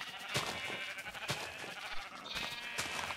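Sheep bleating in the Minecraft video game, several repeated short bleats at a steady rhythm, fairly loud and close, with no talk over them.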